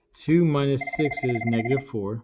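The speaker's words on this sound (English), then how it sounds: "That's a phone ring," A telephone rings with a repeated electronic trill beneath someone talking steadily throughout, the ring sitting clearly under the voice.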